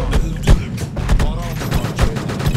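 Rapid gunfire in the online shooter AQ Online (Antin Quntin), with several sharp shots and bursts landing on enemies in a quick uneven rhythm, loud and close, with some talk mixed in.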